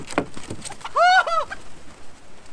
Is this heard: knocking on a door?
no